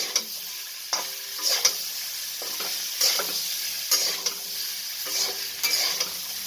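Potato curry (aloo sabzi) frying and sizzling in a pan on lowered flame, with a steady hiss broken by periodic scraping stirs of a spoon against the pan, close and moderately loud, no talking.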